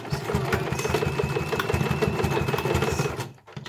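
A sewing machine stitches over a bag seam with a fast, steady mechanical chatter and hum at close range, stopping abruptly near the end.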